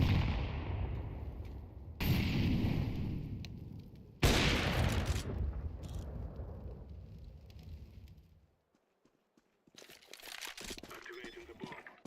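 Grenades and gunfire blast in a video game, several loud bursts that each decay into a crackling rumble, followed by a short quiet gap and then scattered crackling.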